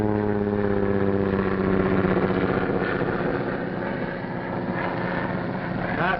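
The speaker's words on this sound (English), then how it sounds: "Tony Barton's plane." A light plane's engine drones steadily as it approaches, a buzzing, harmonic-rich hum held at an even, fairly strong level throughout.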